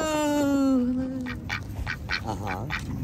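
A pet duck quacks several times in a short burst of close calls after a person's drawn-out voice, with faint talking in the background.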